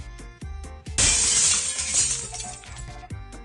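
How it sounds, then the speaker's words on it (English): A drinking glass and a vase shattering in the video game The Casebook of Arne, a sudden loud crash of breaking glass with tinkling shards trailing off, preceded by a series of soft rhythmic thuds. "So she tried to transfer the water to a vase, but broke both."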